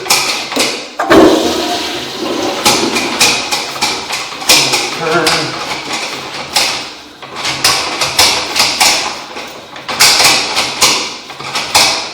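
A toilet flushes with a rushing, gurgling swirl of water, heard alongside clanking and tapping mechanism noises and a voice talking over it.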